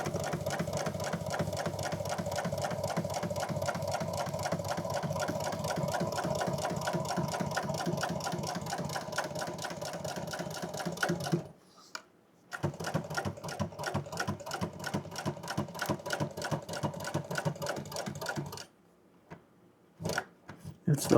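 A sewing machine stitching sun visor upholstery runs in one fast, even, close chatter for about eleven seconds, then stops and restarts in a few shorter bursts separated by brief pauses.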